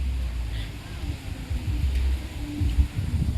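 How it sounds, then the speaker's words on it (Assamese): Strong gusting wind in an open outdoor setting, blowing hard across the microphone with a steady low roar that surges and peaks, while people talk nearby. "তাগৰা বতাহ দিছে দেই"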